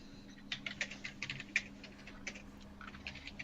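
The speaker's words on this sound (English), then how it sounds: "I've been typing" Light, quick typing on a computer keyboard, a steady patter of soft clicks in small bursts at low level, with no talk over it.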